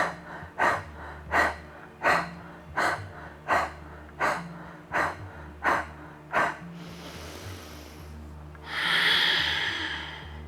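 Rhythmic Kundalini yoga breathing exercise: about nine sharp, evenly spaced nasal breaths pulse close up, followed by a pause and one long, drawn-out exhale.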